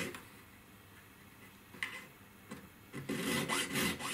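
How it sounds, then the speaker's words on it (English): A square needle file rasps along a groove in a metal ring, quiet short strokes at first, then a louder run of rapid scraping strokes toward the end. "So I'll just go over what I've just done with a square needle file."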